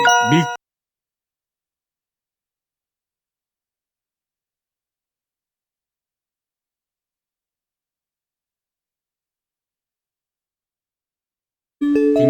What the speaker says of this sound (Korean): 딩동댕, 정답입니다.